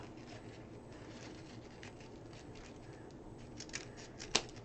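Scissors snipping through deco mesh ribbon at an angle, a quiet rustle of handled mesh followed by a couple of sharp close cuts near the end.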